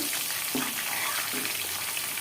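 Five green chillies and crushed garlic frying in oil in a pan for a citron chitranna, a continuous close sizzle with a couple of soft stirring scrapes, no voices.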